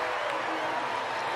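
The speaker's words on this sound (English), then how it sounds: "Crowd seemed to cheer just a little bit louder for you on that one" A hometown crowd at a professional lacrosse game cheers for a goal, a broad roar heard faintly under a commentator's voice.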